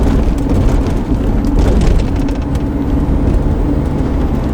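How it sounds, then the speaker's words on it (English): Steady, loud road and wind rush inside a moving 1984 AMC Eagle 4WD wagon, a continuous broadband roar with no talking. "the only thing you're going to hear is the wind noise"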